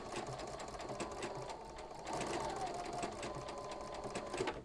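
An embroidery sewing machine stitching around a test stitch-out, a fast steady mechanical whirr with rapid needle ticking that runs unbroken, close and moderately quiet.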